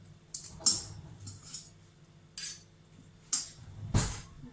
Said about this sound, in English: just gonna get a tablespoon just to scrape it off